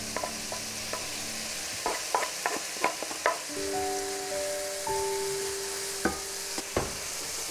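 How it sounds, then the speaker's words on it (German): Bacon and onions frying in a pan, a soft continuous sizzle punctuated by several sharp utensil knocks and scrapes as the pan is stirred; fairly quiet and close, with no voices. "Mein Speck ist jetzt so ein bisschen angebraten. Jetzt kann ich meine Zwiebeln dazu tun."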